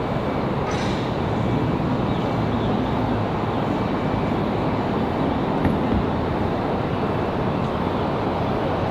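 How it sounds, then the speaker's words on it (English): An Airbus jet departs from runway 23 left, a broad, steady roar of engine noise that holds at an even level throughout without a break. "Caution wake turbulence, departing Airbus from 23 left now"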